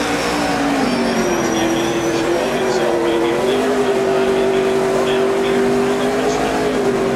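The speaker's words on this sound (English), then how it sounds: "You see Brad Keselowski still doing his burnout down there." Brad Keselowski's NASCAR race car does a celebratory tire burnout, a loud, sustained engine drone with a steady, slightly wavering pitch that holds throughout while broadcast voices sit faintly beneath it.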